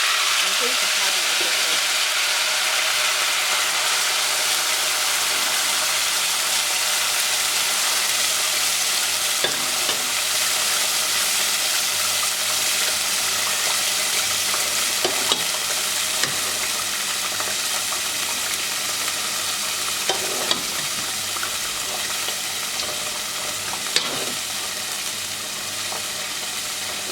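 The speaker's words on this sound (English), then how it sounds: "Okay, so I'm going to allow it to fry now." Fish frying in a pan of hot oil for a Nigerian fried fish stew, a steady, dense sizzle that carries on unbroken with a few faint clinks and knocks, and no talking.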